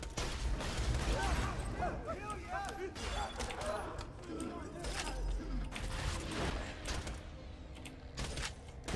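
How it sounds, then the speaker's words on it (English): Gunfire in Borderlands 2, a first-person shooter game, comes as scattered bursts of shots over a dense game soundscape with mechanical clanks and effects, partly masked by a person talking throughout. "Pick it up, there's somebody shooting at you."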